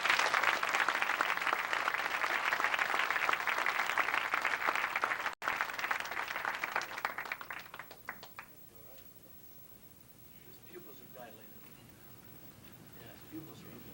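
Steady applause from a martial arts seminar audience for several seconds, then it thins out and fades into quiet room noise.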